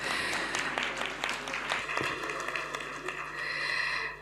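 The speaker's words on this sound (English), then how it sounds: "Another warm round of applause." Audience applause in a meeting room at a gathering of the Africa Initiative, moderately sized and somewhat sparse, with individual sharp claps standing out before the clapping gradually thins.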